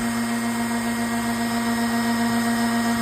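A Millmage CNC machine cutting a wooden catchall tray gives off a steady, loud, unbroken mechanical whine with a strong constant hum, close and without pauses.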